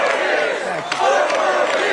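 Political rally crowd chanting "four more years" halfheartedly, a short ragged burst of many voices shouting together, loud and roomy with no single voice standing out.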